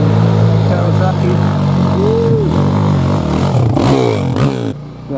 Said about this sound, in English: Jesse on a fucking Kawasaki.